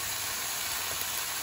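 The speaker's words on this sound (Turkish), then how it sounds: "Arkalı önlü hafif kızartacağım" Chicken bones fry lightly in a pot with a steady, faint hiss and sizzle and no talking.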